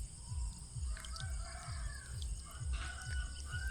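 Chickens forage for insects in the middle of a rice paddy, giving faint, scattered calls over a steady outdoor background with a rhythmic low pulsing.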